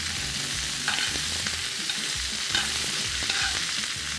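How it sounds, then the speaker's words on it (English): Cabbage stir-fries in garlic oil in a hot pan, a loud, steady sizzle broken by repeated scraping and clattering stirs close by, with no voices. "Now I'm gonna cook some vegetables. Very simple. Cabbage, very cheap, very filling."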